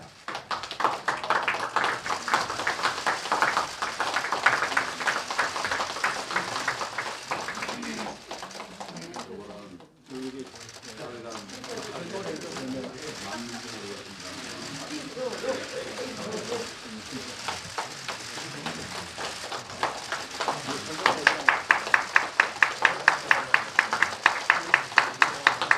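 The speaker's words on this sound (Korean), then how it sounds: "힘찬 박수 부탁드리겠습니다." An audience at a Korean political party's welcome ceremony for new recruits claps in long rounds of applause. Dense, rhythmic clapping opens and closes the stretch, with quieter talk and shuffling between.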